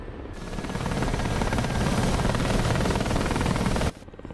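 A Ka-50 Black Shark helicopter in the DCS flight simulator roars with a loud, steady rotor and turbine drone for about four seconds before cutting off abruptly, with no talk.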